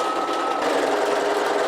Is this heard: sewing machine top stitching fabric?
yes